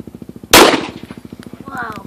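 A Glock 9mm pistol fires a single sharp, loud report at close range over a faint rhythmic pulsing background. A voice follows shortly after the shot.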